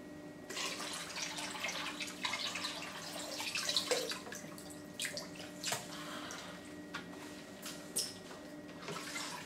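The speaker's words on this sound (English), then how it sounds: "Empty out the water into a bucket." Water poured out of a HiFlo DI140 filter canister into a bucket, a close splashing stream with dripping and irregular gurgling bursts, fairly faint and alone without talk.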